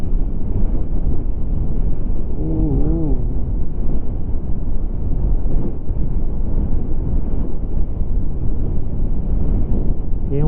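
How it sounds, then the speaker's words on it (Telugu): A strong headwind roars steadily against a Yamaha R15 motorcycle on the road from Leh to Turtuk. The dense, loud wind buffeting runs throughout, with a brief voice rising faintly inside it. "బండి ముందుకు వెళ్ళట్లా మొత్తం వెనక్కి తోస్తుంది కరెక్ట్గా మాకు ఎగ్జాక్ట్లీ స్ట్రైట్ లైన్లో వస్తుంది అనమాట గాలి ఆపోజిట్లో"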